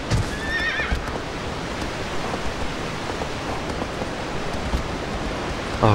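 A horse whinnies near the start in the video game Shadow of the Colossus, a high wavering neigh over steady hissing background noise, with faint hoof clip-clops scattered through.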